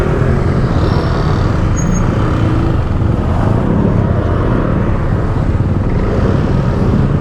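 Steady loud road and wind rumble from a ride along the road in Batangas City, with a 450 MT big bike motorcycle nearby, engine drone blended into constant wind noise.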